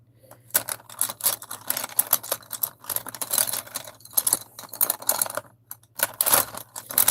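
Prismacolor colored pencils clatter and click against each other in quick, irregular bursts as a handful is shuffled through up close.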